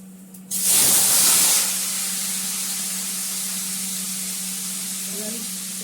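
Cauliflower tossed into hot oil tempered with cumin and asafoetida, a sudden loud hiss that swells then settles into a steady sizzle, with a low hum underneath.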